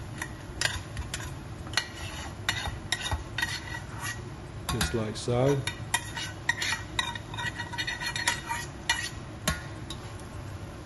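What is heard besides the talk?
rice gently frying and being stirred in a pot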